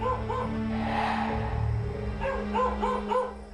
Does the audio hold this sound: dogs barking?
yes